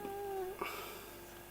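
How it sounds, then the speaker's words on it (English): A cat gives a faint, drawn-out meow indoors, a thin wavering cry with a brief rustle partway through, heard quietly at a distance. "bloody cat, can you hear him?"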